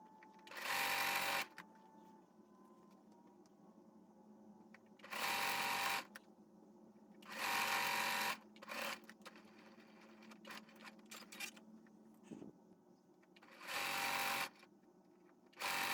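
A sewing machine stitches T-shirt quilt blocks in several loud, steady whirring bursts of one to two seconds, separated by quieter pauses filled with faint handling clicks, close up and without talk.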